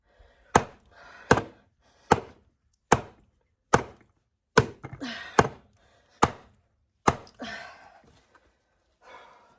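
Sharp, loud cracks of firewood being split strike at a steady pace, about ten in a row roughly a second apart, each a hard woody split with brief rustle between.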